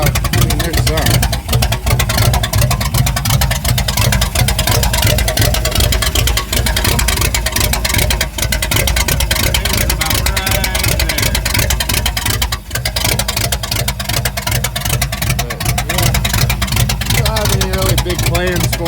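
A Pontiac Catalina engine with no exhaust runs loud and close, a raw, rapid continuous roar with dense rhythmic pulses throughout, with talk partly under it.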